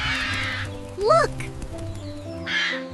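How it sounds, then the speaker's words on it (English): Birds call at a zoo, a crow-like caw rising over a steady background hum, with a harsher burst of squawking briefly before and after. "I like birds."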